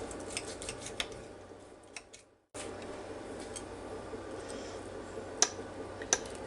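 A knife and fork work at a baked, herb-seasoned pork chop on the bone, giving quiet close clicks, taps and scrapes against the plate in a calm room, with a brief full silence midway.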